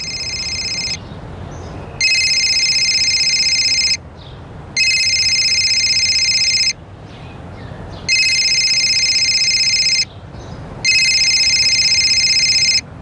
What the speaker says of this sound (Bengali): মায়ের ফোনের রিং তো ভেতর থেকে আসছে।